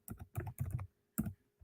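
Close, quiet clusters of computer keyboard keystrokes tap in short irregular bursts with brief pauses between them, no voices present.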